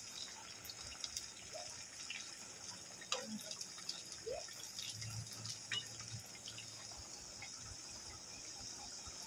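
Snacks of boiled potato and flour frying in hot oil, turned until reddish-golden, give a steady soft sizzle flecked with tiny crackles and pops, quiet and close, with no one talking.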